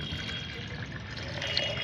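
Tea-leaf fertilizer water poured into potted plant soil, a steady soft stream of liquid running without pause at moderate loudness.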